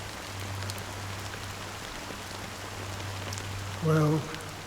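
Steady rain patters on surfaces in the Honkai Star Rail video game, an even hiss throughout with a low hum beneath and a brief tonal blip near the end.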